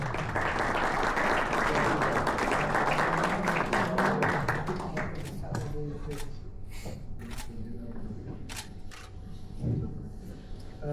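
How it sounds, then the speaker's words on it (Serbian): An audience applauds at a Serbian automobile awards ceremony, loud dense clapping filling the first few seconds, then thinning into scattered claps and camera shutter clicks as murmuring voices continue underneath. "izvolite, aplauz"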